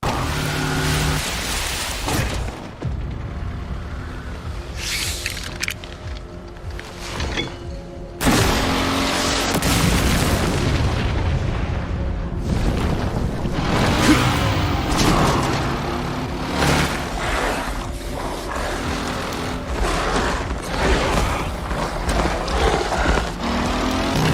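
Roaring motorbike chase and brawl from a Resident Evil Requiem cutscene: dense, loud engine noise with crashing impacts, metallic clatter and booms, briefly dropping away before surging back in a sustained, chaotic rush with no talking.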